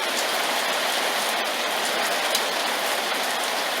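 Heavy rain falls in Las Vegas in a constant, loud rushing hiss, uninterrupted and close.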